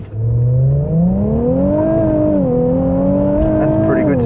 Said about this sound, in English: Build the engine revs just a little bit